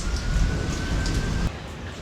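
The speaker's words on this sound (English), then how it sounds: "While I'm waiting for the rain to let up" Steady rain falling outdoors, a dense, even hiss that continues throughout and drops slightly in level near the end.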